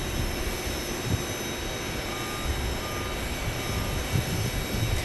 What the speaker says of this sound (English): listen to those Pratt engines over there on the Porter E2